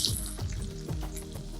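Chopped onion sizzling in hot oil with lightly roasted urad dal, the start of a jackfruit stir-fry. A steady, fairly quiet crackle plays on its own, with a few soft stirring bumps.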